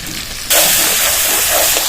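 A spice paste masala for a vegetarian cauliflower roast sizzles loudly in a pan after a sudden onset, a dense steady frying hiss with faint stirring.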